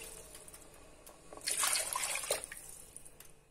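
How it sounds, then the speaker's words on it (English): Water poured from a tap over rinsed rice in a pot for jambalaya, a brief splashing gush rising midway and tapering off, close and moderately loud with no talking. "Cover the rice with water."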